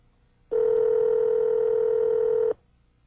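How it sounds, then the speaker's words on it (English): A 1998 BMW 7 Series car phone gives off one steady electronic tone lasting about two seconds, clean and loud, with a short click near its start and nothing else around it. "Use the knob to select the digits in the number you wish to dial"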